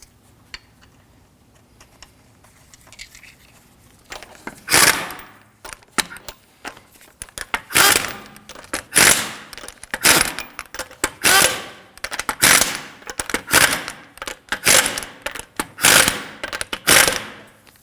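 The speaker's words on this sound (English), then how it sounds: "thread one lug nut all the way in" A lug nut is spun and threaded onto a wheel stud of a 2013-2015 Subaru XV Crosstrek. After a quiet start, about a dozen loud, close, rhythmic metallic clicking bursts follow one another at a steady pace.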